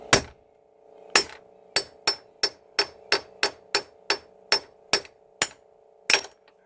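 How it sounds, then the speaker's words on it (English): A hammer strikes repeatedly to drive out the cam gear bearing on a Gravely Model L, about a dozen sharp metallic blows in a steady rhythm, loud and close, with no talking. "I think I'll give this one more good whack and it'll be out"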